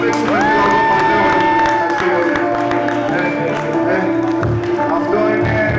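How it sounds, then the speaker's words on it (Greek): A crowd cheering and whooping at a live club show, a loud, close mass of voices with a few sustained whistle-like shouts, continuous throughout. "Τώρα θέλω ένα χειροκρότημα"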